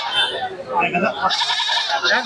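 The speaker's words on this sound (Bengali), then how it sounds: "খাসি ছাগল" Goats bleating at a goat market, wavering cries close by mixed with people talking over the busy trading.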